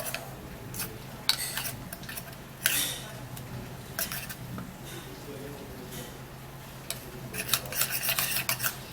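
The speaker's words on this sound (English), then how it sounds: "I'm going to be putting about 3 tablespoons of this oatmeal into this tomato paste, and then we're going to give it a stir" Spoon stirring oatmeal into tomato paste in a small bowl, scraping and clinking against the sides in irregular close strokes, with a few sharper taps and some faint background noise.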